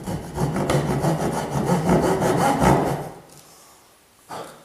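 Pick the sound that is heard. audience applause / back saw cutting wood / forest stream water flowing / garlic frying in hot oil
back saw cutting wood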